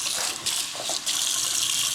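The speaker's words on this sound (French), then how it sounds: "Toujours bouillante l'eau." Boiling water pouring steadily into a container during home cooking, a continuous close splashing gush with no talk.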